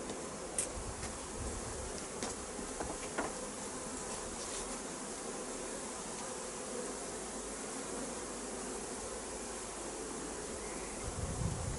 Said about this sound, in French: les abeilles tournent autour de moi